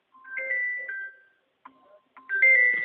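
Mobile phone ringtone for an incoming call, a short electronic melody of bright tones in bursts with brief gaps, fairly close and alone.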